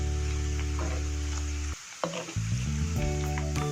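Thinly sliced potatoes sizzling steadily in hot oil in a pan for crispy fried potato shreds, with a brief dip in the frying noise partway before the crackling returns at full strength.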